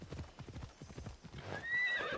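Horse in the video game Assassin's Creed Odyssey: steady clip-clop of hooves trotting, then a high whinny near the end, close and fairly quiet, with no talk over it.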